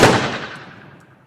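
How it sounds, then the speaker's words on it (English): A single loud gunshot in an animated parody cartoon, a sharp blast that decays over about a second, with no talking. "Patrick, why did you shoot me?"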